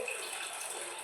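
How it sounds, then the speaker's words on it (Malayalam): Faint steady pour of starchy water draining off rice cooked in a pressure cooker, a soft continuous splashing hiss. "കുക്കറിൽ ചോറ് വെച്ച് ഞാൻ ചോറ് ഊറ്റി വെക്കുകയാണേ"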